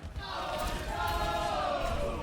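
Live crowd at a Counter Strike 2 and Overwatch 2 esports event in Glasgow roaring, a loud, steady, dense wall of cheering voices that swells slightly and holds throughout.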